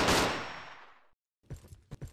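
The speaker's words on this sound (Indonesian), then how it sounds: "kita coba pakai shotgun." A shotgun blast in an offline mobile first-person shooter styled like Counter-Strike, one loud booming shot with a long decaying tail, followed after a brief silence by a few quick mechanical clacks of reloading or pumping.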